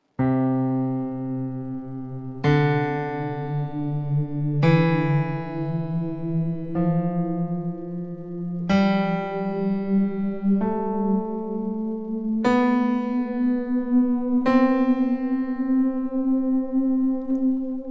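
Eight sustained piano notes ring out one at a time, climbing step by step in an ascending major scale at an unhurried, even pace.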